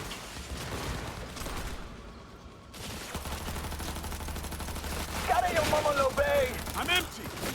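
Automatic gunfire from a newly picked-up gun in Cyberpunk 2077, with a brief quiet gap and then sustained rattling bursts, layered with game effects and beneath talking.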